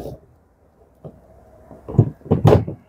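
A floor storage compartment being opened in the cargo area of a Volkswagen ID. Buzz Cargo electric van, a faint click followed by a few loud, close hollow thumps and rattles of the lid near the end.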